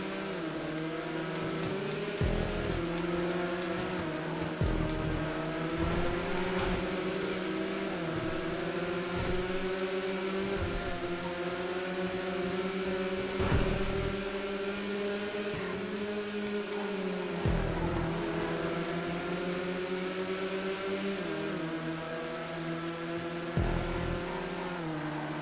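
Race cars on a track in GTA 5, several engines droning and revving together in a continuous high whine, pitch rising and falling as cars accelerate and shift, loud and close.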